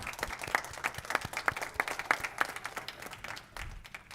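A modest crowd gives a round of applause after a pitch at a fast pitch business competition, with distinct individual claps sounding somewhat distant and thin, fading and thinning out toward the end.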